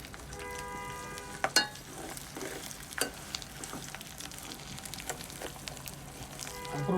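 Raw mango pickle mixed with sugar, stirred in a bowl with a few sharp utensil clacks and soft scraping strokes over a faint steady background hiss, close and unhurried.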